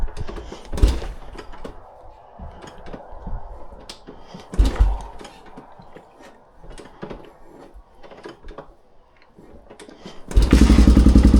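A Honda XR400 motorcycle is worked over with several dull mechanical clunks and knocks before its engine catches near the end, bursting into a loud, close, steady single-cylinder roar.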